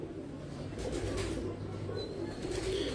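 Pigeons coo in a loft kept for racing or flying competitions, soft repeated throaty calls beneath a steady background murmur, moderately close and continuous throughout.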